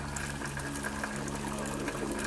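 Water sprays onto a character in the Crow Country video game as a steady, soft hiss over a low electrical hum, quiet and unbroken throughout.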